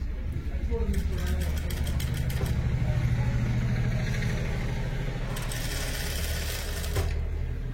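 A sewing machine stitches the lining of a kurti in steady, fast mechanical bursts with short pauses, close by, while someone talks throughout.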